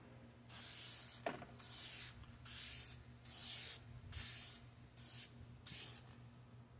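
Spray coating is applied to a car headlight in six short, regular hissing bursts separated by brief pauses, close and fairly soft.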